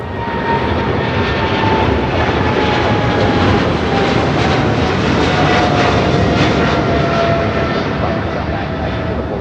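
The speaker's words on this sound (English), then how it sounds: "That was China Airlines cargo 5382 taking off to Miami, Florida on a 777 freighter." A China Airlines cargo Boeing 777 freighter taking off at LAX, a loud, sustained, close jet roar with a steady rumbling wash of engine noise throughout.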